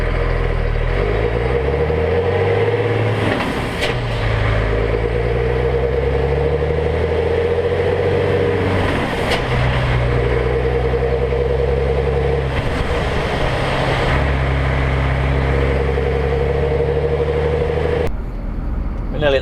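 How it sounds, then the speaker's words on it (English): Sports car with a 310-horsepower engine, its exhaust droning loudly and steadily, rising and falling through several revs and gear changes while driving, close and continuous throughout. "I have taken a clip of the exhaust, so I might stick a little clip into that"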